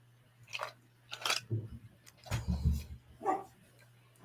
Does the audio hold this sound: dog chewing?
yes